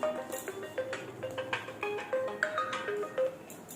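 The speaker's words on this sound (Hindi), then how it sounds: "फोन आ रहा है" A mobile phone ringtone plays a bright melodic sequence of short tones in a steady repeating rhythm, heard alone at moderate volume with no talking.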